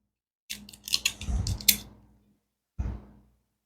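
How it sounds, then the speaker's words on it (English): Kitchen knife snipping the end off an ingredient for a gluten-free pasta sauce, a cluster of short crisp cutting and tapping sounds followed by a single firm knock after a pause. "Just snip the end there."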